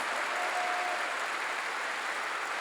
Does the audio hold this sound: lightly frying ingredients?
no